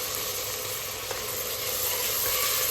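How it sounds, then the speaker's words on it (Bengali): Pre-boiled chickpeas go into a hot frying pan with ginger-garlic paste, giving a steady close hissing sizzle that holds throughout, with no talk. "এখন দিয়ে দিব আগে থেকে সিদ্ধ করে রাখা ছোলা।"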